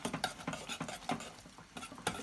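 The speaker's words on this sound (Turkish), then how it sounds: "karıştıralım güzelce" Spoon stirring a thick tarhana dough mixture with pekmez, close rhythmic scraping and soft wet slaps repeating several times a second, with no talk.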